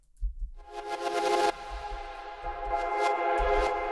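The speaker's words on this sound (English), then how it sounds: "you can hear its reverse effect" Reversed lead sound effect with heavy reverb for a melodic techno track, a swelling washed-out tone that cuts off abruptly, over a deep pulsing kick-like thump, played alone.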